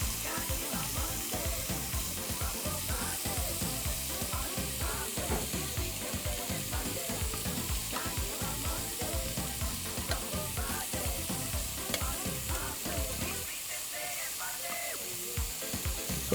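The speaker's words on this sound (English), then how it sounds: "got a nice sear going on, good hot pan, and shrimp are going to be nice" Shrimp sear in a good hot pan during a chef's cooking demo at an appliance expo, giving a loud, steady sizzle that runs throughout and eases slightly near the end.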